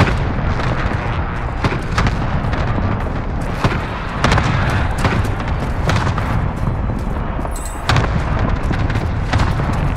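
Repeated heavy booms and blasts from a cluster strike in Call of Duty: Modern Warfare, a dense rolling barrage of explosions that stays loud and continuous throughout, with a brief pause before more impacts.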